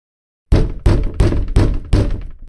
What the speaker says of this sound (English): I quickly hang up the call and bang on the door with a fist